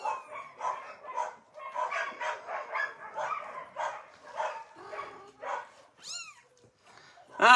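Young kittens in an animal shelter give a few high, thin meows that rise over a steady stretch of Greek and English talk, with a sharper, louder mew at the end.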